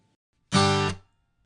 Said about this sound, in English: A hit is when you strike a chord and immediately choke the sound.